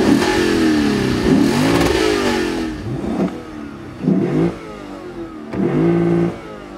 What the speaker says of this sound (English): Yeah, big loud V8 cantankerous